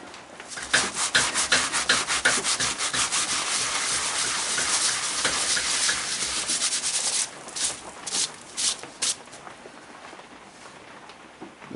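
Steady close rubbing and scraping as a super glue finish is worked into a pine wood bowl, continuous for several seconds then breaking into shorter strokes near the end.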